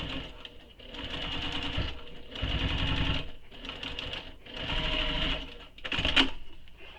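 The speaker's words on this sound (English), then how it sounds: "Then we'll take this to our machine and we'll top stitch this seam." A sewing machine runs top stitching along a seam of a small messenger bag, loud whirring stitch bursts in several runs separated by brief pauses, with no talking.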